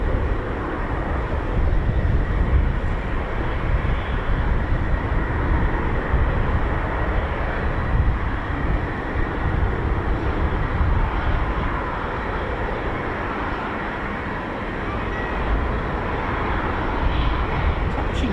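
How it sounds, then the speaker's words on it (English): An F-16 Falcon fighter jet engine spools at an air show, a broad rumbling roar that holds fairly steady and moderately loud, heard from a distance outdoors with no one speaking. "It's the Falcon making that beautiful little spooling sound."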